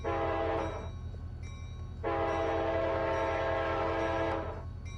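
A K5LA horn on a P42 locomotive in a train video game sounds two loud sustained chord blasts, a short one and then a longer one of about two and a half seconds, over a steady engine rumble.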